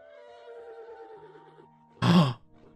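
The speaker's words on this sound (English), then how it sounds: "I hear horses." A horse neighs in the Mad Father video game, a short loud whinny after a stretch of quiet tonal game music and drones, close and brief.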